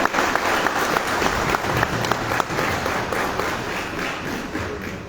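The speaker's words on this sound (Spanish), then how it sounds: "Con un fuerte aplauso les despedimos otra vez" An audience at a conference event gives loud, sustained applause, a dense continuous wash of many clapping hands with occasional thumps, fading slightly near the end.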